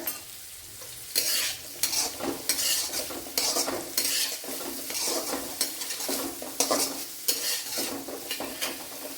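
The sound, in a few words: onions sautéing with salt in a pan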